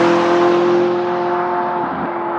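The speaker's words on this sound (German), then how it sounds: "Aber jetzt kommt er wirklich, der 675 LT Spider." A McLaren 675LT Spider sports car sweeps past with a loud, steady engine note that fades slightly as it moves away.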